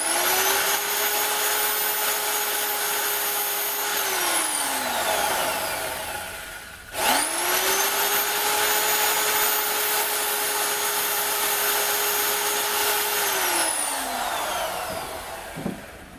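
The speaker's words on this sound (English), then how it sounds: "A little bit of trimming up with a power file." A power file trims copper tulips, its motor whining loudly and steadily as it runs, winds down, then starts up again for a second long pass before spinning down at the end.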